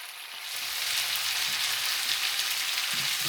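Sliced potatoes with onion and seasoning fry in a skillet, a steady close sizzle that swells after the first half second and holds loud and even, with no talking.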